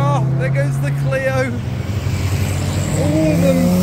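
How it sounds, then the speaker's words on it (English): A Renault Clio drives past on a street lined with cars, its engine rising to a steady roar that swells toward the end, loud and close, with people talking over it. "Oh, there goes the Clio."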